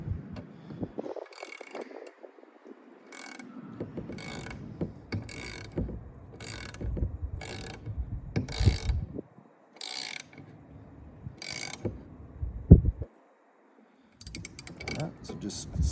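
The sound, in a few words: tightening bolts with ratchet while installing Metalcloak dead pedal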